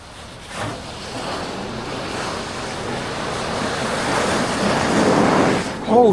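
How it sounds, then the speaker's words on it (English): Ocean waves crash and roll onto the Limassol shore on a windy day, a loud continuous roar of surf with wind buffeting the microphone, swelling toward the end. "Yeah, check these waves. It's insane."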